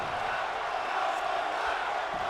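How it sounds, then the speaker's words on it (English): A wrestling-event crowd roars in a steady, dense wash of screaming and cheering, a continuous loud mass of voices with no single speaker standing out. "Crowd screaming one more time"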